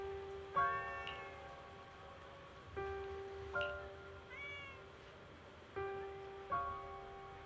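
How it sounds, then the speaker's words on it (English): Cat meowing in the video game Zenless Zone Zero, five or six clear, drawn-out meows in spaced pairs over a steady low hum, fairly close and without talk. "Oh, there's a cat over there."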